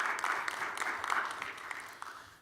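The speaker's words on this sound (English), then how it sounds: "Give him a round of applause." Audience applause at a local government affairs opening session, a short burst of moderate clapping from a room of people, somewhat distant and fading over about two and a half seconds.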